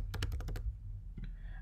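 Keys clattering on a computer keyboard while an email address is entered on an online registration form, a quick burst of close, crisp taps followed by a pause and a few lighter keystrokes.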